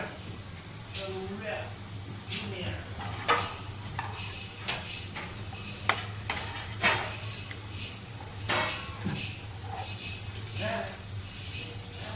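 Potato slices cooking in a pan as they are turned, with soft sizzling under scattered scraping and clinking of a spatula against the pan, moderately quiet and close.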